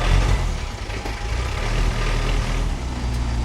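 A Land Rover with a standard 2.5 diesel engine drives along, a steady low rumble with road and wind noise, heard from close by and continuous throughout.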